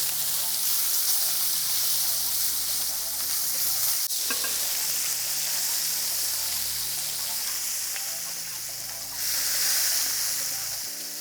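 Meat browning in a pan for chili verde gives a loud, continuous sizzle with occasional stirring scrapes, a sharp clatter partway through and a brief hissing surge toward the end.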